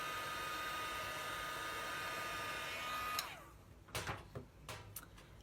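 A craft heat tool blows steadily on gold ink for about three seconds, a loud constant whoosh that cuts off abruptly, followed by a few brief clicks and handling noises.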